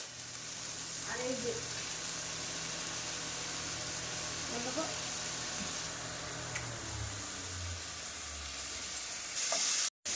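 Potatoes frying in a little oil give a steady, soft hiss that runs throughout, with a few brief spoken words over it and a sudden clatter at the very end.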